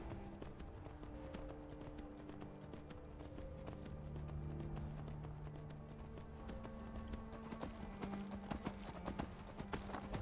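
Horse hooves trot in Skyrim, played on PS4, a soft, steady clip-clop of a single mount under humming ambient game music, faint and with no talk.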